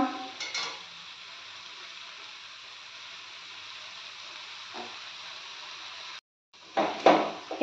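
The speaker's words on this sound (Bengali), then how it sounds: "এবার আমি এটা ভালো করে নেড়ে নেব।" Kul (jujube) pickle being stirred with sugarcane jaggery in a pan over a low to medium gas flame: a steady soft scraping hiss with a few louder clatters at the start and end, and a brief silence near the close.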